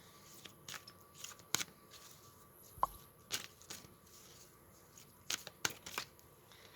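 Tarot cards are shuffled and pulled from a deck, giving faint, sparse papery snaps and crisp flicks with quiet gaps between them.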